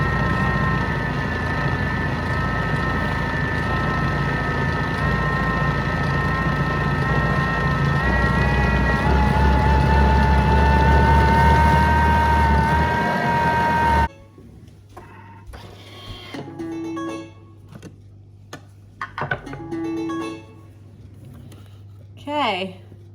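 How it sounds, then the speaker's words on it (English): Electric mixer beating lemon drizzle cake batter on speed 6 in a home kitchen: a steady loud whirring motor drone that cuts off abruptly, followed by quieter clattering and handling noises. "And then I'm going to mix it again for 15 seconds"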